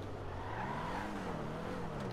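Dewbauchee Spectre sports car engine in GTA 5, a steady droning growl whose pitch rises and falls slightly over about two seconds, close and alone with no talk.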